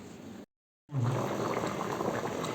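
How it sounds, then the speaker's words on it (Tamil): Tamil-style fish curry bubbling in a pot, a steady close boiling rumble, briefly cut off by a short silence before resuming. "அதுக்கு மேலே நல்லா கொதிச்சு வந்துடுச்சு"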